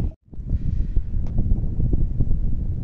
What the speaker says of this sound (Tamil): இப்போ என்னென்னா காற்று அடிச்சுக்கிட்டு இருக்கு